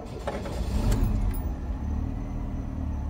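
A Chevrolet Cavalier convertible engine cranks briefly and catches, then settles into a steady, close idle rumble after a throttle body and mass airflow cleaning, with no one speaking.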